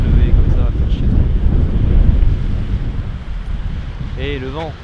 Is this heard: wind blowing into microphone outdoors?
yes